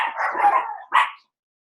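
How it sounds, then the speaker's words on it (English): Dogs bark nearby in a couple of loud, close bursts, the second short and sharp, then silence follows. "Hear my dogs."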